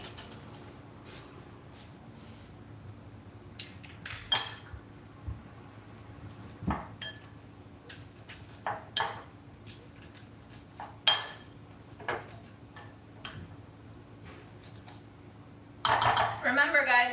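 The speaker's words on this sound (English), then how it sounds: "Let's go ahead and just use a masher." A kitchen masher clatters against a pot or bowl during microwave-only cooking, giving scattered sharp metallic knocks and scrapes over a low hum, with a denser burst of clinking at the end.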